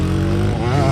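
Dirt bike engines revving hard together at the start of a drag race, a loud close buzzing roar that rises in pitch over one second.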